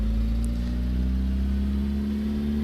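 Motorbike engine in the building video game Brick Rigs, a steady loud droning hum that holds an even pitch throughout, with no talk.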